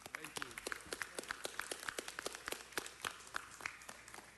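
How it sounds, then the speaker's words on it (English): Applause from a small audience in city council chambers, a thin scattering of distinct hand claps in an uneven rhythm, fairly faint and close, with no voices over it. "Let's give him another round of applause."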